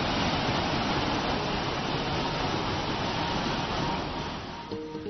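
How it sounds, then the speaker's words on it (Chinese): A loud waterfall plunging down a steep mountain canyon, heard from under 200 m away, gives a dense, steady roar that holds unbroken and eases slightly at the very end, with no voices. "我们可以听到这个水落下来的声音是非常非常大的"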